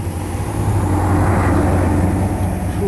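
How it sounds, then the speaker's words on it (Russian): A large vehicle passes along a city street in Anapa in autumn, a loud, steady low engine rumble holding throughout with broadband road noise, close to the listener. "Так, наша большая машина идет."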